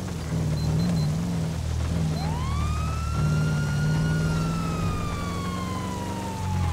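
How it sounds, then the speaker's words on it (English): A police siren wails in GTA 5, rising and then holding a long sweeping tone over a steady low engine hum, fairly close and loud. "I think somebody else has their sirens on"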